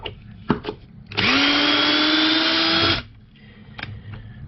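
A DeWalt 12-volt Xtreme 3/8-inch cordless drill/driver drives and countersinks a screw in one loud, steady whine lasting about two seconds, with a few clicks just before it and softer handling afterwards.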